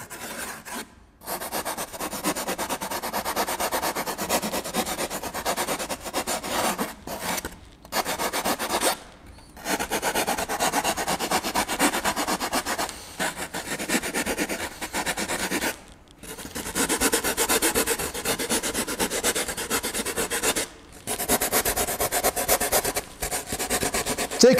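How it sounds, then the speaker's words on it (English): A hand rasp files a wooden heart with long, steady strokes, each a loud dry scraping rasp, separated by brief pauses, close up with no voices. "I have another rasp which you can refine even better"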